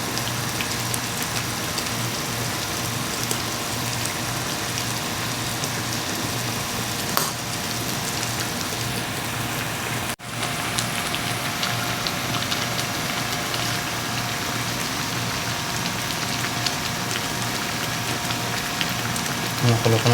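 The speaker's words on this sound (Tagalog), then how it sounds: "Kumukulo-kulo na siya." Chicken and shrimp paste broth boils in a pot over high heat, a steady dense bubbling hiss that runs continuously and close by, with one brief knock midway.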